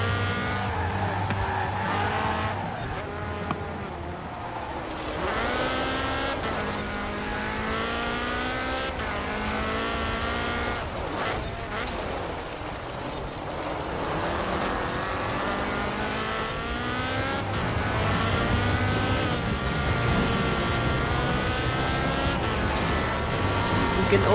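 Quartz Regalia racing in Forza Horizon 4, engine revving and shifting through rising and falling pitch sweeps as it accelerates past rivals, close and continuous, with someone talking over it.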